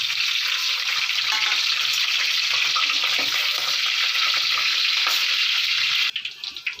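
Continuous loud sizzling and crackling of green chillies frying in hot oil, steady for several seconds, then stopping abruptly into quieter clatter.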